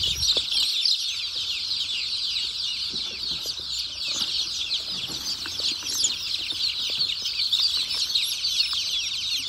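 Native village chicks squawking and clucking in a busy flock while being caught for vaccination, continuous shrill calls close by with occasional wing flaps and handling noise.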